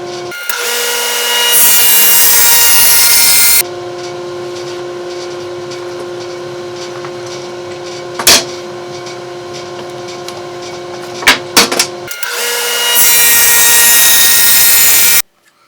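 A router mounted in a Ridgid R4512 table saw router table cuts wood with a loud, steady high-pitched whine, a quieter idling hum in between passes, and a few sharp knocks as the workpiece is pushed through.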